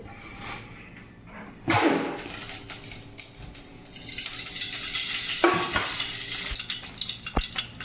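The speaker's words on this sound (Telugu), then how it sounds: "ఇప్పుడు టమాటా కొంచెం ఆయిల్ వేసుకుందామండి." Tomatoes fry in hot oil in a pan, a steady sizzling hiss that starts softly, then swells louder and fuller partway through, with occasional stirring scrapes.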